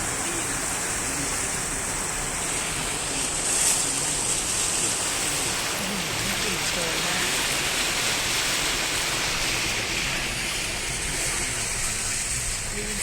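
Steady rushing floodwater washes and laps against the edge of a flooded road, continuous, a broad hiss like surf with no talking.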